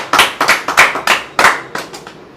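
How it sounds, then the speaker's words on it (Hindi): A studio audience claps in a few short bursts to welcome a contestant on a home quiz game show, the claps close and distinct with brief gaps between each round. "तालियों से इनका स्वागत किया जाए।"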